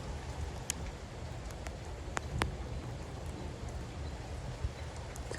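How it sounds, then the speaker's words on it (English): Rain falling steadily onto surfaces, a soft continuous patter with a few sharper drips and taps standing out, fairly quiet and alone without voices. "What happens when it starts to rain and your house starts to flood?"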